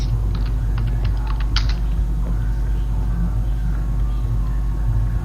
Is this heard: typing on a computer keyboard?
yes